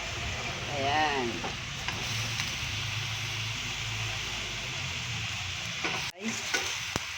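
Shrimp and vegetables fry in a pan with a sachet of sauce, a steady close sizzle with scraping stirs, while a person speaks briefly and a short tonal sound rises early on.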